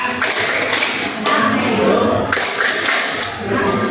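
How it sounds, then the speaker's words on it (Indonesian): Children at a primary school workshop for National Children's Day clap in rhythmic bursts during a group chant, loud and close, with voices mixed into the clapping. "1, 2, 3, tepuk hak anak."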